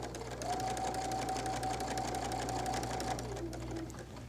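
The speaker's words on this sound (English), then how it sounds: "And I'm going to start sewing my second seam." Sewing machine running steadily while stitching the second quarter-inch seam of a quilted holiday placemat, a close continuous whir that stops briefly near the end and restarts softly.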